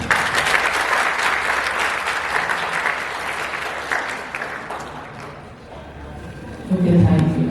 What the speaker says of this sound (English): let us all again give them, applaud them